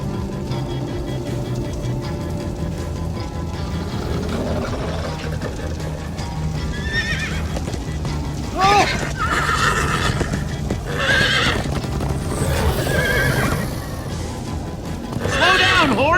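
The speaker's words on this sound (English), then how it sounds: "Slow down, horse!" In the Minecraft Story Mode video game, a horse's hooves clip-clop in a steady gallop under a low rumbling bed, then several sharp, close neighs and whinnies break out in the second half.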